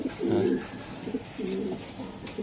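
A racing pigeon coos nearby in soft, low, throaty phrases, repeating a few times with short pauses between them.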